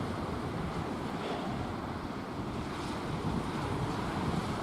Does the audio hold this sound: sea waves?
yes